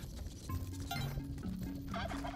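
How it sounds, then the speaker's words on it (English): A pair of turkeys gobble in the Spelunky 2 video game, repeated warbling calls over a steady game soundtrack, moderately loud and close, with no talk. "But there's two turkeys right there."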